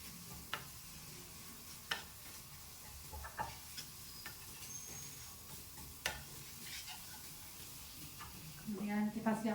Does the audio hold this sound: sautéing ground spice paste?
yes